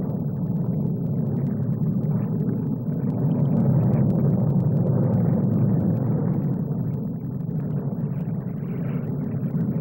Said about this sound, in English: A mass demonstration of Hawker Hunters by 111 Squadron. 9 aircraft.